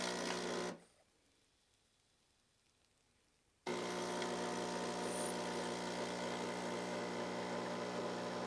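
A multifunctional espresso machine brewing a single espresso gives a loud, steady pump hum that cuts out briefly for a few quiet seconds, then resumes just as strongly.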